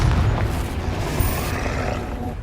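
Confringo fire spell exploding in Hogwarts Legacy, a deep rumbling boom with a short burst that fades into a low roaring tail, loud and close, no talking.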